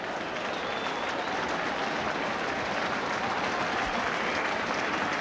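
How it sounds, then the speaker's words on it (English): Crowd applause at a 1987 Cardiff versus Bath rugby match, a dense, continuous wash of clapping from a large stadium crowd, steady throughout. "huge applause"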